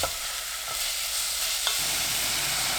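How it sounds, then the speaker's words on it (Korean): Steady, soft sizzling of radish being stir-fried in sesame oil in a pot over medium heat, with faint scraping from stirring and no voices. "냄비에 참기름 2큰술, 무 넣고 중불로 3분 볶습니다."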